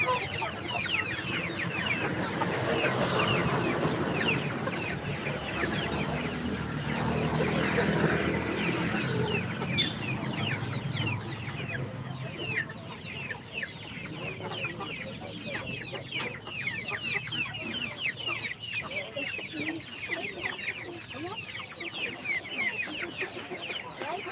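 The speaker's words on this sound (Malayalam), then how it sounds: "ഇവിടെ രണ്ട് വലിയ കോഴിയുണ്ട്" Chickens cluck repeatedly at a busy outdoor market, with a steady bed of background noise and occasional faint voices.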